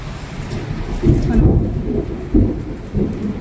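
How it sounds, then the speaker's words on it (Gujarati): Heavy rain pours steadily while deep rumbles of thunder roll in several bursts, close and loud. "વરસાદ ચાલુ થયો હોય ને વીજના કડાકા ભડાકા થાય છે"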